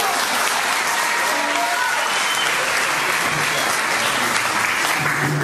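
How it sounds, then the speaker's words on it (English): An audience applauds to welcome a band at a concert in Morocco: steady, dense clapping from a crowd, fairly loud and continuous throughout, with no talking over it. "Right, applaud please."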